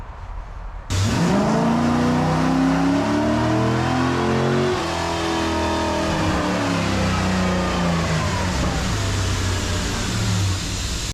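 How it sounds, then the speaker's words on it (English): A car engine cranks and catches, then roars loudly, its pitch rising and falling through several revs before settling into a steady, rumbling idle, close by. "get this engine running"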